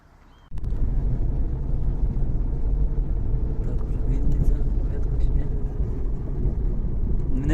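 A car drives along the road in the dark before dawn, heard from inside as a steady, loud low rumble of engine and tyre noise that starts abruptly and continues throughout, with occasional voices.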